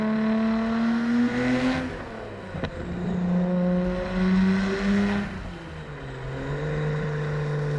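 A Nissan Skyline GT-R R34 engine pulls hard through the gears, its strong droning tone rising, dropping briefly at a shift, then climbing again, loud and close.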